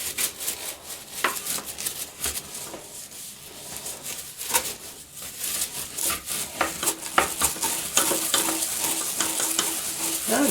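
Amazer Comfort Grip scrub brush scrubbing a surface, making steady, close, rapid back-and-forth bristle rasps that continue without pause and grow slightly louder toward the end.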